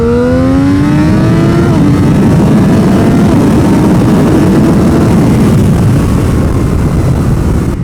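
A Yamaha motorcycle on its stock exhaust accelerates hard, its engine note climbing through the gears at first and then blurring into loud, continuous wind and engine roar.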